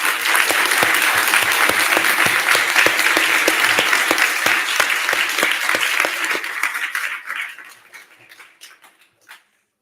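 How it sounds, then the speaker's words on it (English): Applause from a crowd at a kid governor inauguration ceremony, loud sustained clapping with distinct individual claps that gradually thins and dies away into silence. "Please join me in a round of applause for all of them."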